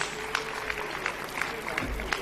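A crowd at a political party event applauds with scattered, fairly faint claps over a murmuring room, some sharper claps standing out at intervals.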